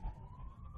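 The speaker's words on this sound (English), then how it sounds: "As you can hear in the background, the ambulance." An ambulance siren carries faintly in the distance across Adelaide's CBD, its steady tone held low beneath a constant rumble of city traffic.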